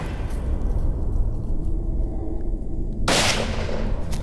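A single sharp rifle shot cracks out near the end during a Western savannah buffalo hunt in Cameroon, following a stretch of steady outdoor wind and ambient noise.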